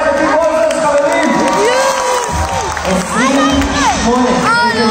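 A young crowd cheers for the Brawl Stars team at the end of a game against a Fortnite team, loud whoops and excited children's shouts close by with little clapping, voices swooping up and down.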